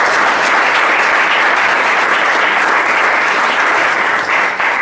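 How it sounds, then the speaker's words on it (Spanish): Audience at a podcast workshop clapping together in steady, dense, loud applause that holds throughout and begins to fade only at the very end. "Un aplauso para ellos."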